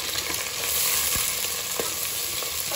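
Onions fry in hot oil for mushroom biryani, a dense close crackling sizzle that runs steadily throughout, with a couple of faint utensil taps and no speech.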